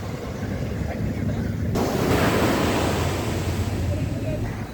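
Sea waves wash onto Dubai Marina beach at JBR in a continuous surging roar, loud and close, with wind buffeting the microphone throughout.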